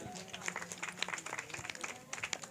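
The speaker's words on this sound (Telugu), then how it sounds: "ప్రెసిడెంట్ గారికి మనందరం కూడా క్లాప్స్ కొడదాం ఒకసారి" A church audience at a Christmas gathering claps for the president, a soft, scattered patter of many hands at a distance, fairly faint and brief.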